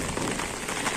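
Steady, dense rain in Moscow patters on surfaces, a constant wash of noise with no pauses and no voices.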